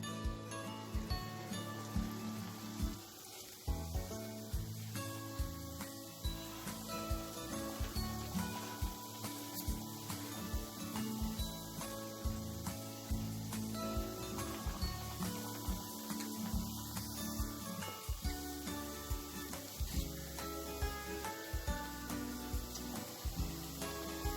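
Masoor dal paste sizzles steadily in hot oil in a pan, a faint, continuous crackling hiss like light rain that carries on for the whole stretch without much change.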